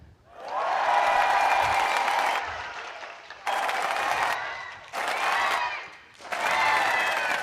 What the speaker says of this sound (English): When I raise this applause sign, you all clap and cheer